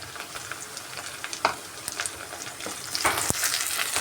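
Curry leaves frying in oil in a pan for a Nellore-style colocasia curry, giving a close, steady crackling sizzle with sharp pops and a louder burst of spattering near the end.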